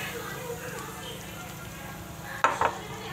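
Fried chicken stirred into karahi gravy for a restaurant-style chicken changezi karahi, a low bubbling sizzle with a couple of sharp spatula knocks on the karahi near the end.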